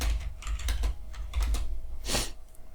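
Keys clatter on a computer keyboard while someone types PLC code, a close, uneven run of clicks in bursts, ending with a louder, heavier keystroke cluster near the end.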